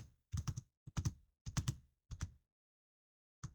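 Keys on a computer keyboard clack in four quick bursts of several strokes each, close and crisp, followed by a pause and one last lone keystroke.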